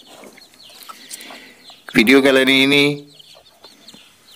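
A farmed jungle fowl gives one loud, drawn-out call lasting about a second, close to the microphone. Someone speaks softly before it, with faint bird sounds around.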